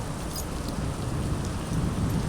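Heavy monsoon rain pours down in Bhiwandi near a petrol pump, a dense, loud, unbroken roar with a low rumbling undertone.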